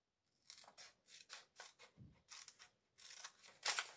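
Scissors cut through fabric for a pouch in a series of close, crisp snips with an uneven rhythm, alone and without speech.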